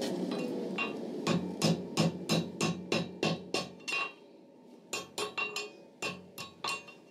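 Heavy hammer blows forging a shepherd's crook ring out loud and close in a steady run of about ten strikes, a short pause, then five or six more evenly spaced clangs.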